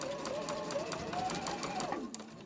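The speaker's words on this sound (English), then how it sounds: "we're going to stitch it down there, 1/4 inch seam." A sewing machine stitches a quarter-inch seam in patchwork fabric for a pinwheel cushion block, a fast, even whirring chatter nearby that slows and stops near the end.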